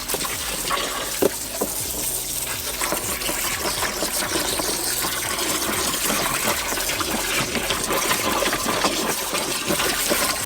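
A climbing rope is rinsed in a tub under a spray of water: steady, close rushing and splashing throughout, with small sloshing clicks as the rope is moved about, and no voices.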